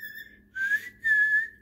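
A person whistles close by with two sustained, slightly wavering notes, each lasting about a third of a second, separated by a short pause over a quiet background.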